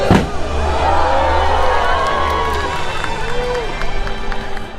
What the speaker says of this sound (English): And this is the crowd now